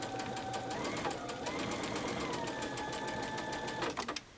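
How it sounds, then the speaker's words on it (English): A sewing machine stitches a quilt along a scallop template line, running in a fast, even mechanical patter up close before stopping near the end. "I'm stitching right on my line and just removing pins as I go"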